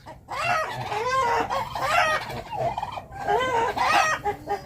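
Several turkeys squabble in a farmyard, loud gobbling and clucking calls rising in bursts over and over, close and fairly busy, with no talk over them.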